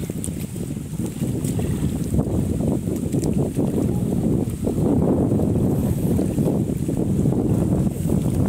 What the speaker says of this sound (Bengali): দেখুন নদীর কি গতি, নৌকা কই থেকে কই যাইতেছে।